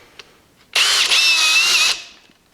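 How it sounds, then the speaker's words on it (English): Ryobi One+ cordless drill driving a deck screw into an old 2x6 board, one steady loud whirring run of about a second, starting abruptly and winding down at the end, with no talk. "we're gonna run a deck screw in"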